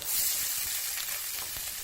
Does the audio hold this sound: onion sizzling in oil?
yes